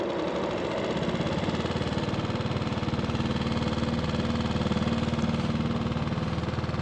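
A Tohatsu 4HP outboard motor runs steadily on a Pelican Bass Raider boat, a continuous mid-pitched putter at constant loudness with a fine rapid pulse and no voices throughout.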